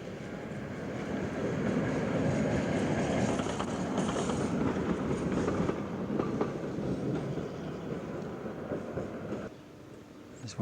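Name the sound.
tram passing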